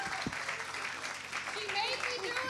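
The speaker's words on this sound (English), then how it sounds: "Can we just give another round of applause for our amazing MCs?" Gala audience applauding the MCs, faint distant clapping blended with crowd murmur and talk in a large hall.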